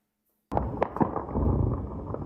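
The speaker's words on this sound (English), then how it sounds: "the people of Sudan's capital woke to the rattle of intense gunfire and the sound of explosions" Heavy gunfire and explosions in Sudan's capital during fighting begin abruptly after a short silence: a loud, dense rattle of shots with sharper blasts standing out, continuing without letup and with no voices.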